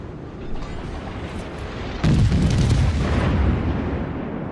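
A heavy warship gun salvo fires in a naval battle video game, a deep booming blast that opens with a sudden loud roar and rumbles on for a couple of seconds, with no talk over it.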